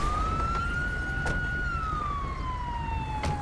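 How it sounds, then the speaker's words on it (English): A police car siren in Grand Theft Auto V wails steadily and loudly throughout, sliding slowly up and down in pitch over a low engine rumble. "That officer still have his siren on."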